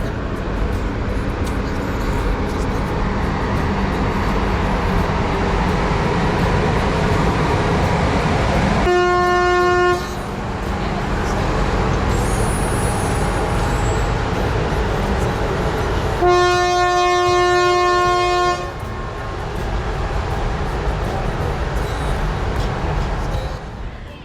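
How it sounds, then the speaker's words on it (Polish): A train passes near a level crossing around Visoko, Bosnia, with a steady heavy rumble throughout and two loud, sustained horn blasts, one short and one longer. "Uwaga, teraz podziwiamy pociąg."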